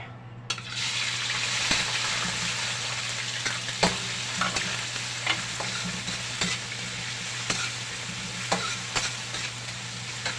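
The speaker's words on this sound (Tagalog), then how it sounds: "igisa natin mabuti itong ano, itong taba. Palabasin natin yung mantika niya." Pork fat sizzling steadily in a hot pan as it renders its oil for ginataang gabi, with a constant frying hiss broken by occasional clinks and scrapes of stirring, close and alone without talk.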